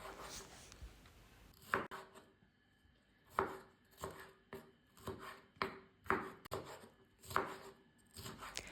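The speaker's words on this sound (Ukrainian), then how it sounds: "і нарізаю також середніми шматками." Rhythmic knife chops on a cutting board, about a dozen crisp knocks at an even pace, close and clear with no talking.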